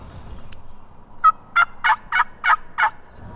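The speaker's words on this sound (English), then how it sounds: "Did you hear the other one gobble?" A wild turkey lets out a gobble at close range, six quick rattling notes in an even burst after a quiet pause, standing out clearly against a calm outdoor background.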